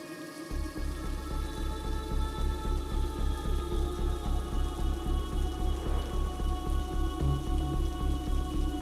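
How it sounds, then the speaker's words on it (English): Steady rain falls continuously with a soft, even hiss and a low pulsing rumble beneath it, with no one talking. "into the cold rain"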